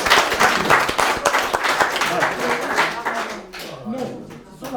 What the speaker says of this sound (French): rien que ça mérite vraiment un grand applaudissement